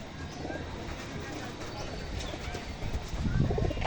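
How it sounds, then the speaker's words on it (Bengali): Several pigeons being readied for a tournament coo softly and continuously, with faint chirps, the murmuring growing a little louder near the end. "একদম দুর্দান্ত কোয়ালিটির পায়রা সব রয়েছে আমার কাছে"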